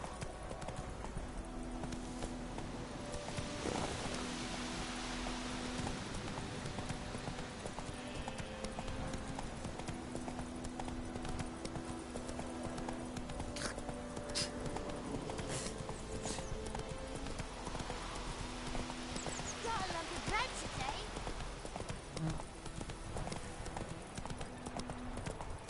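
A horse trots with an even clip-clop of hooves in The Witcher 3, the steps fairly faint under a constant bed of game music and ambience, with occasional spoken lines.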